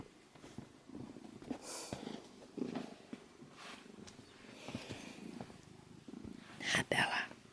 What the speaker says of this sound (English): Kitty cat wants some attention.